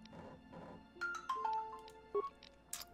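A phone ringtone plays a short series of tonal electronic chimes, fairly quiet, over faint background sound.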